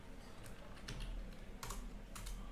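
Steady typing on a computer keyboard, clusters of keystrokes arriving in quick bursts at close range over a low background hum, with no voices.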